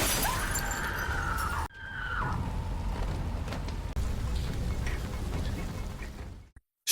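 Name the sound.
car window being smashed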